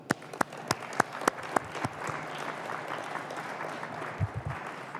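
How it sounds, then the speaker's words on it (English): An audience at a UK parliamentary election declaration for Bexley and Bromley gives a round of applause, sharp loud nearby claps at first giving way to a softer, steady crowd clapping, with a brief murmur near the end. "I'd like to give them a round of applause too"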